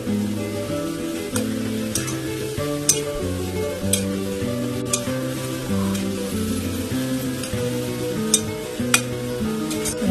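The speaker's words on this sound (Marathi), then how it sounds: "मीडियम फ्लेम वरती तळायचे आहेत आपल्याला। थोडं रंग बदलेपर्यंत आपल्याला मस्त फ्राय करून घ्यायचे।" Potato chips fry in oil over a medium flame, a steady close sizzle with occasional utensil taps. Music plays throughout and no one speaks.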